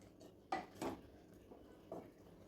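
Carrot halwa made with milk cream is stirred in a pan over medium heat, with a few soft scrapes and knocks of the utensil against the pan, quiet and close, with no one talking.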